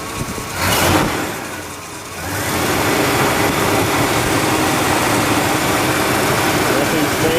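A 1969 Pontiac LeMans engine with a carburetor revs up near the microphone, a brief surge of throttle followed by a steady loud engine drone.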